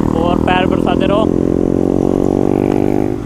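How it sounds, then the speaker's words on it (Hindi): A KTM motorcycle engine drones steadily and loudly close by during a ride, holding a constant humming pitch while someone talks over it. "साउंड के साथ अलग ही बाइक राइड करने का अलग ही मज़ा होता है गाइस"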